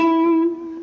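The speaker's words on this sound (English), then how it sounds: "I've also put a bit of overdrive onto my guitar" A single sustained electric guitar note with light overdrive, rich in bright harmonics, ringing out alone and slowly fading.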